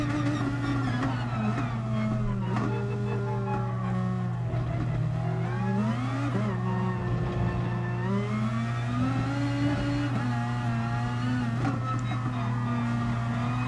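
A Super GT race car in GT Sport drones steadily around Fuji on an out lap, its engine note rising and falling with gear changes and throttle, loud and continuous throughout.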